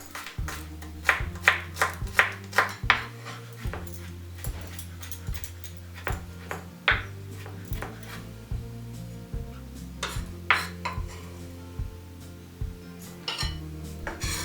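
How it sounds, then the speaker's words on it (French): A knife crushes and then chops a garlic clove on a cutting board, giving close, repeated sharp knocks in an uneven rhythm with short pauses between bursts. "Écraser, puis hacher au couteau la gousse d'ail."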